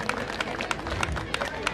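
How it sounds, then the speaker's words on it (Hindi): Audience applause at a Holi Milan 2022 gathering, a steady patter of clapping from a crowd welcoming a guest, with background chatter and babble mixed in throughout. "एक बार जोरदार ताली में स्वागत"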